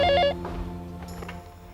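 A telephone rings with a short electronic trill that stops abruptly, leaving a low background drone from a TV drama scene.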